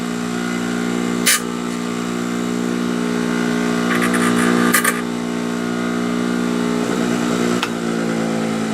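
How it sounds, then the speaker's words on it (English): A bench grinder hums steadily while a Paslode trim nailer part is touched against it. Brief scraping contacts break through the motor drone, one short and one longer, close and fairly loud. "Touch the end of this thing to the grinder."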